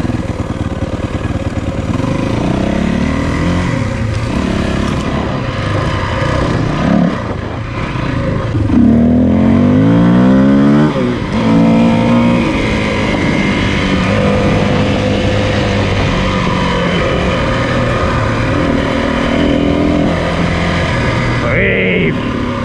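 A Yamaha WR400 dirt bike ridden around Reedy Lake, its engine droning loud and continuously with rising and falling revs as it accelerates and shifts, the note sweeping up in pitch through the middle of the ride.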